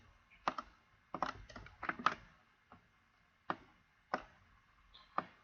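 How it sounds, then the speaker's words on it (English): Computer keyboard keys are pressed in short irregular bursts while working in a database, each press a crisp tick heard close and fairly quiet, with pauses between clusters and no talking. "press Control on your keyboard"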